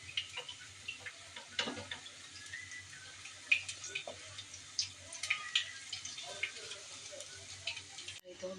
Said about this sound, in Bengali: আর এই তো বেগুনি ভেজে নিচ্ছি।